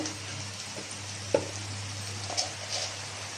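A spiced masala of turmeric and chili powder sautés in a pan with a soft, constant sizzle, broken by a couple of brief stirring scrapes over a low hum.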